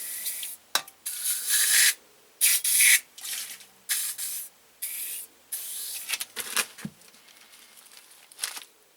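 Several short spray bursts of cleaner hit the brake discs and pads of a 2001-2005 Toyota RAV4, each hiss loud and close with brief pauses between, no talking.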